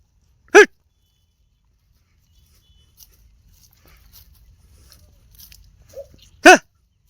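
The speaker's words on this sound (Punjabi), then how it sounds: "ਤੇ ਉਹ ਭੌਂਕੀ ਜਾਂਦਾ" A dog barks twice, once early and once near the end, single sharp barks separated by a long quiet stretch with faint rustling.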